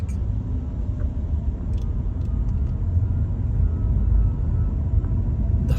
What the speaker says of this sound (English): Bumper to bumper traffic.